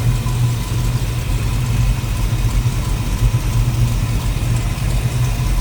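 A 1936 Ford Deluxe Tudor slantback street rod's 350 cubic inch V8 with an Edelbrock 4-barrel carburetor and intake manifold idles steadily, a smooth, continuous low rumble heard up close with no talking.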